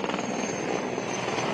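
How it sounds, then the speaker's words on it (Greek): A helicopter flies over a burning forest near Vilia, a steady, loud rotor and engine drone that runs unbroken through the short stretch. "Βλέπετε εδώ ένα ελικόπτερο Ericsson"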